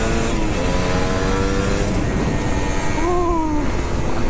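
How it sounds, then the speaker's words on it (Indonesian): Kawasaki Ninja RR two-stroke motorcycle engine running steadily up close, a continuous buzzing drone with a brief rise in pitch near the end and no talk over it. "Suara mesin juga kali bisa denger sendiri lah, enak atau enggaknya."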